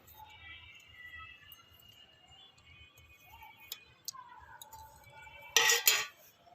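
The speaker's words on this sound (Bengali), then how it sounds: "এক এক করে সব মিশিয়ে নেব প্রথমে গাজর কুচি" Chopped carrot is tipped into a bowl for rice pakora, mostly soft scraping and faint ticks, then a short burst of loud metal-on-bowl clinking near the end.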